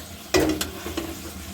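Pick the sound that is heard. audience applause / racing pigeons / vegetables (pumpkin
vegetables (pumpkin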